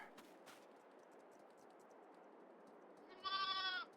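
A single short bleat from a sheep on a farm in a farming video game, clear and fairly close near the end after a quiet stretch of low background noise.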